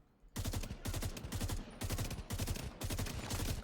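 Loud automatic M16 rifle fire in The Division 2, coming as five sustained rapid bursts separated by brief pauses.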